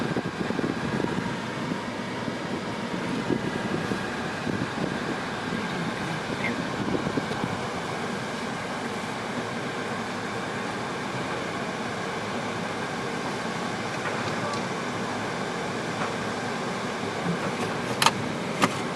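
Interior of a car riding the rail through a semi-automated conveyor car wash at Delta Sonic in Henrietta, with a steady broadband whoosh of sprays and machinery that stays even throughout, plus a few faint clicks near the end.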